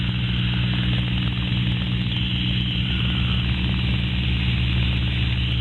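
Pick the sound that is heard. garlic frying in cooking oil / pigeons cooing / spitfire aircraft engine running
spitfire aircraft engine running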